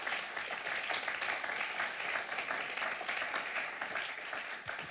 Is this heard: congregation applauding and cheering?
yes